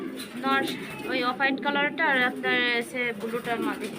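Pigeons on a farm in Narail, Bangladesh, cooing close by in repeated throaty phrases, with human voices heard alongside.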